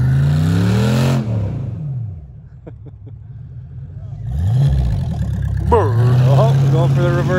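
A 4x4 engine revving hard while drifting on ice in winter, loud rising and falling roars with sweeping pitch, dipping to a lower idle midway before surging again, up close.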